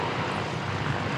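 An aircraft on the runway at Christchurch Airport, a brief, steady broadband engine roar heard from a distance.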